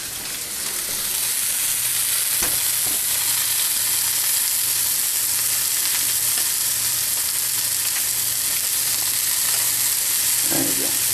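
A hamburger patty fries in a pan over medium-high heat, giving a loud, steady, close-up sizzle with crackling spatter and a couple of faint knocks, continuous throughout with no talking.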